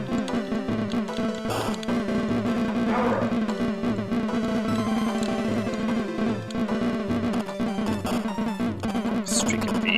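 Bees buzz in a SNES prototype video game, a continuous insect drone layered over steady game music with rhythmic low beats, loud and unbroken.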